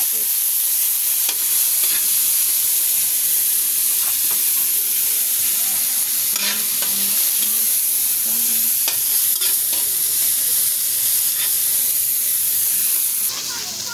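Onion and garlic fry in a pan, giving a loud, continuous sizzle. Repeated scraping strokes from stirring break in through the clip, close and clear, with no talk.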